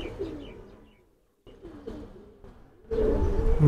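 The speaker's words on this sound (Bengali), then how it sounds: "তো আরো কিছু কবুতর আছে, আমরা সেগুলো দেখব" Racing pigeons on a rooftop loft coo softly in low, throaty bursts, with a brief quiet gap and a louder stretch of nearby cooing and rustling at the end.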